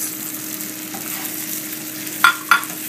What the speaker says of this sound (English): Stir it in so everything is mixed together.